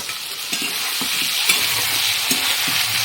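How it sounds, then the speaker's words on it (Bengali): Ground poppy seed, cumin, ginger and chili paste frying in hot oil for a cucumber and papaya curry, a loud steady sizzle with rhythmic spatula stirs and scrapes, close up and without voices. "এখন এই বেটে রাখা মশলাগুলো দিয়ে দেবো এখানে আছে পোস্ত এখানে আছে জিরা আদা আর লঙ্কা সব দিয়ে দেবো"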